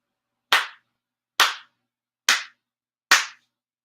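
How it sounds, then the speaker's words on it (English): Four sharp, evenly spaced ritual hand claps ring out at a Shinto-style prayer service, each crisp and close with a short decay, separated by clean silence and no talking. "Ichido haire 4 sincere claps."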